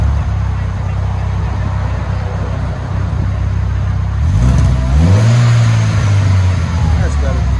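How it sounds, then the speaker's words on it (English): An Audi A4 S-Line fitted with a high-flow catalytic converter and a DC Sport exhaust revs with a deep engine note. It idles, then rises and falls through one rev, loud and close, with a voice speaking over part of it. "That's better. That's what you're used to. It's not too loud, just deep."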